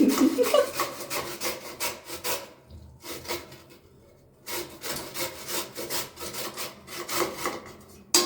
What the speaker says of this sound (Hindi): उससे ज़्यादा गाजर नहीं घिसूंगा, एक ही गाजर का हलवा बना लो।